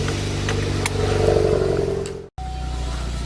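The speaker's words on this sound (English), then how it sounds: "It's idling like different than it did before" A Saturn Sky Redline car engine runs with a steady low rumble after an intercooler replacement, briefly swelling louder, then cuts out for an instant before resuming its even idle.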